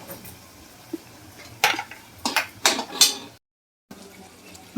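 A spoon stirs peanut and spice curry in a cooking pot, giving a few quiet clinks followed by a cluster of louder metallic scrapes and knocks against the pot, then a short silence before faint stirring resumes.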